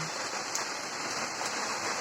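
Steady warm rain falls on a hard surface, a dense even patter with scattered drip taps, continuous throughout with no voices.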